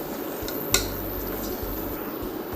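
Chopped tomatoes being mixed in a cooking pan, with one sharp utensil clink against the pan, then soft, quiet scraping and squishing under a low steady background hum.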